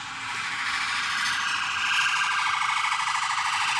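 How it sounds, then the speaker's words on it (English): A loud, wavering electronic alarm siren wails continuously, its pitch warbling rapidly, with no voices. "That is the weirdest alarm sound I've heard in my life"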